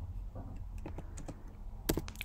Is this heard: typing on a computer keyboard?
yes